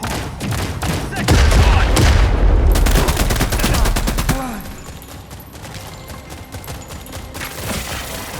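Rapid bursts of gunfire in The Expanse: Osiris Reborn, loud and dense for the first four seconds, with heavy booming impacts, then easing into a quieter rattle of distant shots and background noise.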